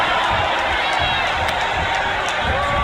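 Crowd in the WWE 2K24 wrestling video game: a dense, constant arena roar of cheering that fills the whole moment at steady loudness, with no breaks.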